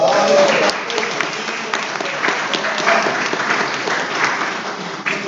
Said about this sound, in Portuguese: Salva de palmas para o casal.